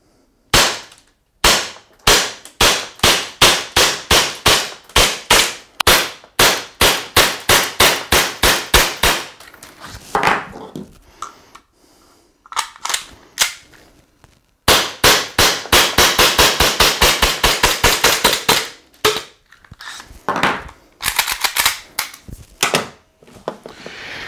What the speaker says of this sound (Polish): zobaczmy, jak nasz kolcik z kompensatorem strzela